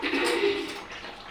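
Pumpkin and fish curry boils in a pot with a steady, soft bubbling hiss that stays even for a brief moment, close by and undisturbed.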